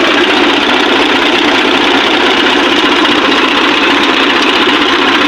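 A tractor engine runs steadily and loudly while shifted into low gear, a dense, unbroken mechanical rumble with no speech.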